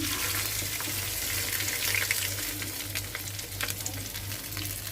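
Raw chili paste frying over low flame in a pan while Schezwan sauce is made at home, a steady close sizzle with soft crackle running throughout under a low background hum.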